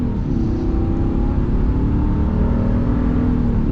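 A Ram Power Wagon Tradesman's 6.4 Hemi engine pulls away from a green light, a loud, steady low rumble heard from inside the cab that rises gently in pitch, with no speech.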